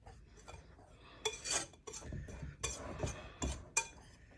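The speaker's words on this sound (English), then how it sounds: "So we're going to mix this all up." Sicilian almond cookie dough (paste di mandorla) being mixed in a bowl: uneven scraping and soft knocks with a few sharp clinks of a utensil against the bowl, close and fairly quiet, with no talking.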